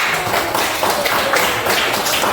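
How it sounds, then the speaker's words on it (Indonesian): Applause from a classroom group greeting the first student group after a presentation, a steady wash of many hands clapping together at moderate loudness with no speech over it. "beri tepuk tangan untuk kelompok 1"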